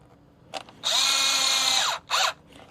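A power drill whirs as it drives screws into the gauge cluster mount of a 2008 to 2012 Chevy Colorado or GMC Canyon, a short blip, a sustained loud run, then another brief burst close up.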